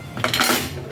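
Plates and dishes are handled close by, a brief burst of clattering ceramic and metal lasting under a second, with no talking.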